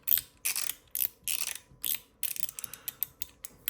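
A stainless steel slider fidget toy is pushed up and down, giving a series of sharp metallic clicking, ratcheting bursts in an uneven rhythm, close and alone.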